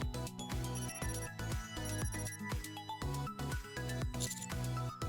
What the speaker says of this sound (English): As we chat, the sound of a bell ringing comes from the counter up front.